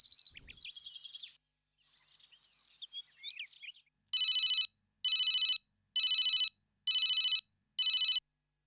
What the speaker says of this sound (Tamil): சீதா நான் ஒரு ஃபோன் பண்ணிக்கட்டுமா